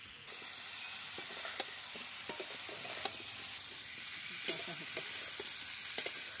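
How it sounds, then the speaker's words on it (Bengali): Fried eggplant pieces stirred in a pan with Kashmiri chili powder and salt, giving a steady soft sizzle with scattered scraping clicks of the spoon, close and moderately quiet with no talk. "এবার ভাজা বেগুনগুলো আমি দিয়ে দিচ্ছি"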